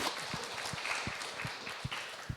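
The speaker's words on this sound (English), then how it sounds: "So big round of applause," Audience applause for a conference panel, a dense wash of many hands clapping at steady level with a few louder thumps standing out.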